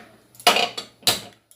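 Pressure cooker being shut with its lid and the whistle weight fitted on, made during cooking of dal: two sharp metallic clanks, each with a brief rattle, close and loud, then a faint tap.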